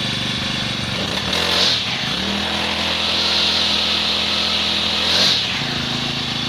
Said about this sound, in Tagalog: ang kagandahan po ng 4-stroke, hindi siya mausok at the same time, mas smooth po yung andar ng kanyang makina